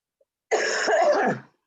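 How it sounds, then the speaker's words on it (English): A single harsh cough during a Sunday sermon, close and fairly loud, lasting about a second, preceded by a tiny click in otherwise silent surroundings. "please excuse me occasionally if I cough"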